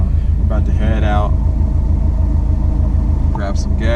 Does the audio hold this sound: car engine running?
yes